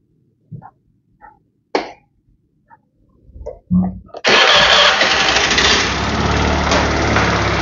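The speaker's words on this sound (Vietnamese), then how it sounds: "Rồi, mình đè nổ máy nhá." Honda Lead 110 scooter with a loud engine noise, a few clicks and knocks of the starter before the engine catches and settles into a steady, loud idle close by, with brief speech before.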